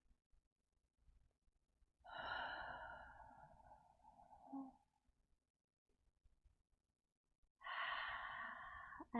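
Two long, deep, audible exhales from someone holding a forward fold in a yoga flow, close and breathy with a quiet gap between them and no speech.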